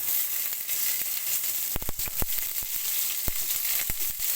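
Garlic and onion sauté in a hot pan with a steady bright sizzle, broken by a few sharp clicks and scrapes of stirring, close and fairly quiet with no voices.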